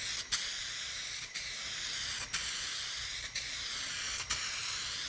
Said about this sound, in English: we're going to be using the Eastwood aerospray, the 2K aerospray clear coat that they have